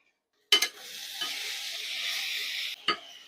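A pot of radish sambar bubbling and hissing steadily on the stove, opened and closed by short clanks of a utensil against the pot, close and fairly loud with no talk.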